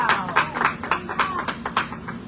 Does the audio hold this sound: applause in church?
yes